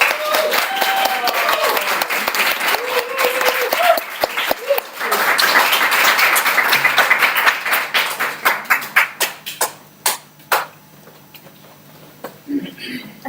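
An audience in an online meeting applauds, with dense clapping and overlapping voices at first that thin out into a handful of separate claps, some close and loud, before trailing off into near quiet.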